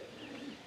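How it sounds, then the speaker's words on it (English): Recorded birdsong plays as a soft, faint soundscape during a historical interpretation talk, with a brief low cooing call like a dove or pigeon. "Can you hear the birds singing in the trees?"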